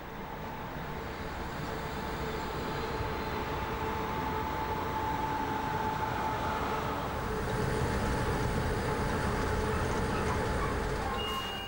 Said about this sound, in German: Der Zug aus Freiburg rollt heran.